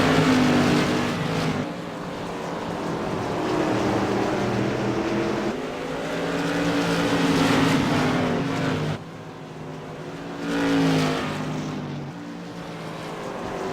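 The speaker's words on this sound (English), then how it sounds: "Trying to make his way around the track is behind Benny Ellison" Light modified race cars roar around the Irwindale Speedway oval during a CRA race, engines droning loud and steady with rising and falling passes as cars sweep by, no voices heard.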